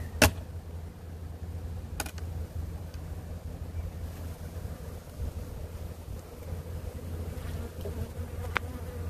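A dense swarm of honeybees buzzing steadily over an open hive being fed sugar syrup in spring, a continuous close drone with a few brief clicks and knocks.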